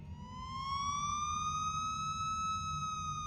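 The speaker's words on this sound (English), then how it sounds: "police sirens rang out." A police siren wails alone, its rising, sweeping tone swelling from a distance and holding steady and loud over a low rumble.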